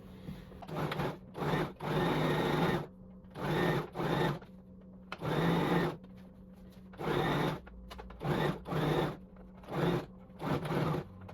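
A sewing machine stitches a halter neck circle top, running in a series of short close bursts separated by brief pauses, with no talking.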